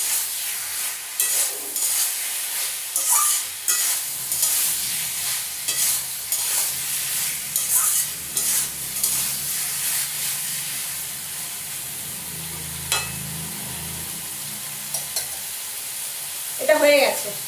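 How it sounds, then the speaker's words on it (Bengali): Spinach with a little milk and sugar frying in a pan over high gas, a continuous sizzle and hiss punctuated by repeated scraping stirs, growing quieter and more even toward the end. "এবার গ্যাসটা বাড়িয়ে দিয়ে একটু ভাজা ভাজা করে নেব।"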